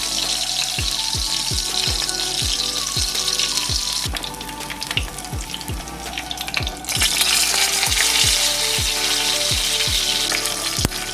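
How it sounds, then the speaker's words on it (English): Short ribs sear in a hot pan with a loud, constant sizzle, joined by a rapid series of sharp popping spatters. The hiss swells brighter partway through, and there is no talk. "Leave it in the pan until it gets a nice brown crust on each side."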